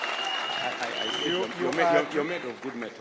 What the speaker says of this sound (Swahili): Makofi kwa Deputy Rais.